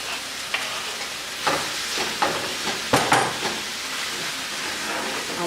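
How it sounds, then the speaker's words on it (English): Empanadas sizzle and fry in a frying pan during home cooking, giving a steady hiss with a few clattering bumps as they are placed and moved. "So into the frying pan they go."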